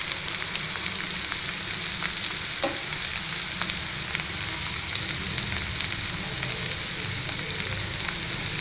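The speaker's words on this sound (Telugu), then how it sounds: "చూడండి, మన చిక్కుడుగా ఫ్రై అయిపోయిందండి" Broad beans frying in a pan with garlic chili powder, a steady dense sizzle and crackle throughout, close and continuous with faint stirring scrapes, no voices.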